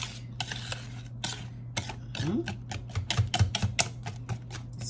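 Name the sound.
whisking pecan pie filling in a bowl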